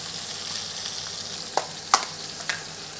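Steak searing in a pan with thyme gives a steady, close sizzle and crackle, with a few sharper spits and pops breaking through, no voices over it.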